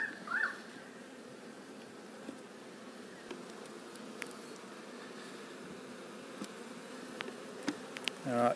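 Honey bees buzz softly around an open hive during an inspection, a faint continuous drone with occasional closer passes and light clicks of handling.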